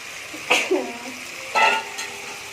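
Pointed gourd and potato pieces frying in oily spice paste, giving a soft steady sizzle with two clinking bursts as they are stirred, close and quiet.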